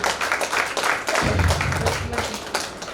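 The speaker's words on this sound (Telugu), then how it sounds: "మనం గట్టిగా చప్పట్లు పడదామా" An audience claps together at a health awareness talk, with a steady patter of hand claps for about three seconds, close and dense, over low murmuring.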